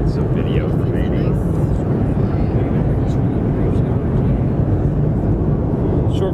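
A Delta MD-90 airliner in flight fills the cabin with a loud, steady low roar of engine and air noise that holds unchanged throughout, with faint speech mixed in.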